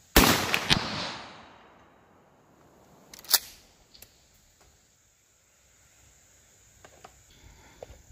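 A 12 gauge shotgun firing a sabot slug outdoors at a range, one sharp loud blast at the start with a decaying tail, then quieter clicks and a smaller distant crack later amid near silence.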